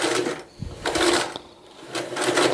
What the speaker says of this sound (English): It's not a Singer sewing machine. It's a Phoenix.